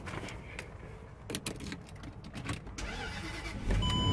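A car is started with a jump starter in a parking lot, with a few clicks and clunks first and then the engine catching into a steady idle that grows louder toward the end.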